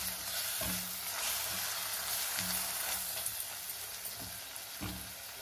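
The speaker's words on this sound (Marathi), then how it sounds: "गरम मसाला आणि चवीनुसार हळद, हे सर्व मिक्स करून घ्यायचं आहे व्यवस्थित." Garam masala, red chilli powder and turmeric stirred into sizzling oil in a frying pan for a garlic fenugreek dish, steady loud frying hiss with several distinct spoon scrapes, close up and without talk.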